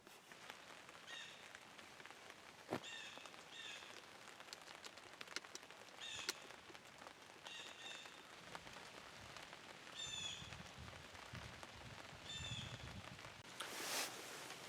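Rain falls steadily on a rainy day, a faint continuous patter broken by scattered louder drips and knocks.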